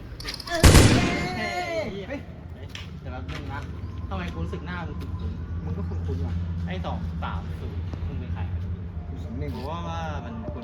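Gunfire from a video game as a player is eliminated: one loud, sharp burst near the start, then a steady bed of game noise with voices talking over it.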